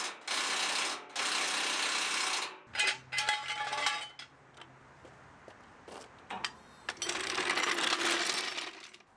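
Lock nuts being tightened with a ratcheting tool on the passenger side of a wrecked dump trailer under repair, heard as bursts of rapid metallic clicking and ratcheting with short pauses between runs and a few clinks.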